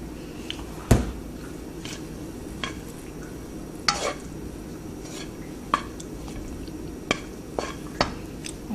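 A baked ziti mixture of ricotta and seasoning is stirred in a bowl with scattered scrapes and clacks of the utensil against the dish, near and fairly quiet, with no talking.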